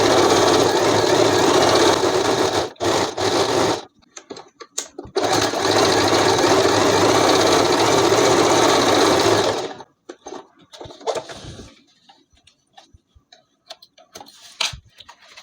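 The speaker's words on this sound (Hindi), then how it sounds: "अब देखिए इसको यहाँ पे ऐसे रखेंगे और इसमें बहुत सारी हमें सिलाइयाँ लगानी होंगी।" A sewing machine stitches an elastic waistband on a petticoat being made into palazzo pants, in two long loud whirring bursts with a brief pause between, then fading into scattered quiet ticks and handling clicks.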